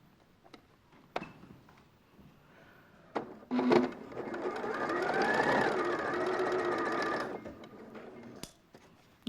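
A domestic sewing machine stitches through pinned fabric in a sewing studio, giving a steady mechanical whirr for about four seconds. Scattered clicks and taps come before and after the run, all fairly quiet.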